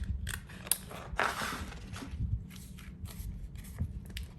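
Scissors trimming a craft vinyl sheet for fruit coasters, a quiet string of short snipping and rustling cuts close by, irregular and faint, with no talking.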